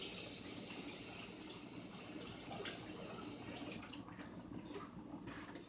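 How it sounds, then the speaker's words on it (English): Kitchen tap water runs in a steady gush while a tasting spoon is washed during chicken chili cooking, faint and continuous with slight shifts in the flow. "So let me grab that spoon and wash it."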